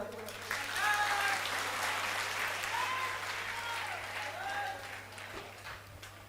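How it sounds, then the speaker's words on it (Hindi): Devotees at a religious gathering at Pandokhar Sarkar Dham burst into applause, a dense patter of many hands that swells and then slowly fades, with faint tonal whistles and voices in the background. "यदि आ रहा तो ताली तो बजा दो।"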